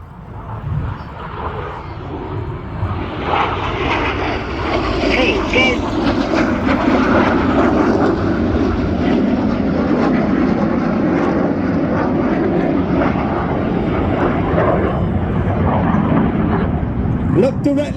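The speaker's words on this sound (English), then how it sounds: "they'll be down at about 200 feet with a closing speed of over 800 miles per hour in the double rolls" Red Arrows jets fly a display at the Midlands Air Festival, a roaring engine sound that swells loud and stays heavy as the aircraft pass low, while an announcer commentates over the noise.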